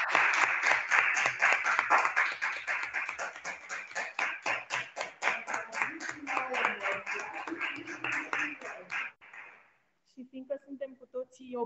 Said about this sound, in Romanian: o aplaudăm pe Alice.